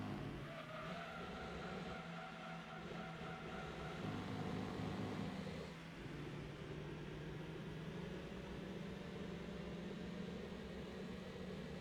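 Race cars in the Dan Turismo video game roar steadily through a long three-lap race, a continuous droning engine hum with layered engine tones and a brief shift in pitch midway, loud and unbroken with no talking.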